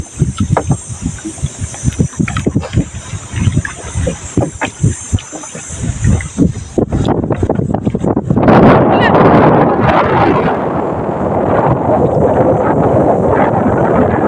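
Gusty wind buffets the microphone in loud rushing bursts, with voices and an engine hum early on before the wind takes over.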